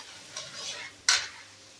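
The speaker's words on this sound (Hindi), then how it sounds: "स्लो मीडियम फ्लेम पे स्टार्च से मसाला भून लेंगे।" A spoon scrapes through spice masala roasting over a slow-to-medium flame in a kadhai for a spiced arbi dish. A soft stir is followed by a sharper scrape against the pan, with a faint sizzle underneath.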